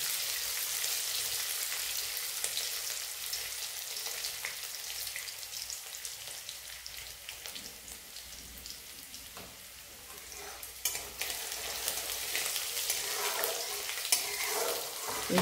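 Asafoetida and chopped green chillies sizzling in hot oil with cumin and mustard seeds, a continuous close crackling fry with occasional stirring scrapes and a sharper spatter near the end.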